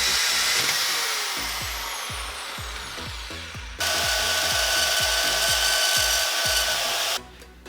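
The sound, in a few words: drilling out motorcycle hand guard mounting parts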